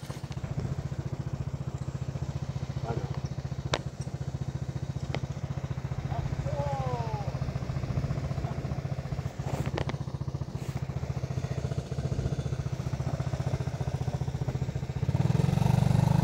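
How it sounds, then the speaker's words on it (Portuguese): A motorcycle engine runs steadily and close by near a burnt, half-collapsing bridge over a clear river, a constant low drone with occasional clatter that grows louder toward the end. "Ele vai tentar passar ali com a moto dele."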